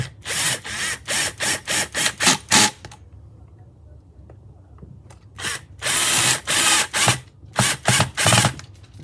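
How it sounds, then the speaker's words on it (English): A power drill driving screws to fasten the pickup and bridge plate on a custom Telecaster guitar build, a burst of short whirring pulses, a pause, then another run of loud close bursts. "We're going to go ahead and screw it down, then we'll hook our wires up."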